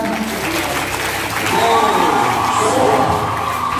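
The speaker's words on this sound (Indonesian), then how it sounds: "tepuk tangan dulu semuanya" Audience applause at a marching band training session, a steady broad wash of clapping mixed with crowd noise and some cheering, swelling louder about halfway through.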